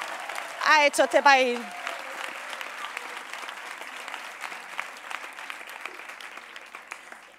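A political rally crowd breaks into broad applause after a short spoken phrase and a loud cheer, and the clapping continues steadily, gradually thinning out.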